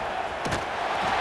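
Stadium crowd in College Football 26, a constant loud roar of fans with a brief swell of shouting, heard alone with no commentary over it.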